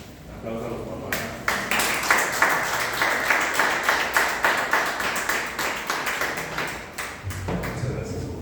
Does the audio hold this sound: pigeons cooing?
no